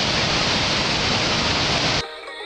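Roaring broadband rush of Victoria Falls in Zambia in rain, loud and steady at close range, then cutting sharply to a much quieter background for the final half second.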